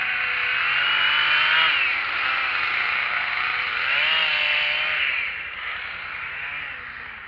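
A Gravely quad engine runs steadily at an outdoor equipment show, giving a loud, buzzy close-up drone whose pitch swells and sags a few times before it eases slightly toward the end.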